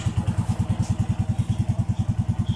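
A motorcycle engine just started, running at a steady idle with a regular low thumping pulse, close and alone.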